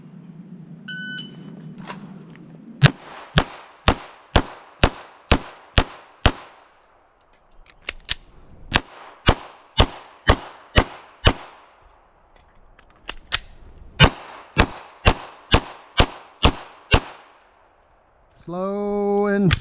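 Handgun shots fired at a slow, even pace during the Casino shooting drill, sharp cracks in four separate strings separated by pauses, with a shot timer beeping at the start.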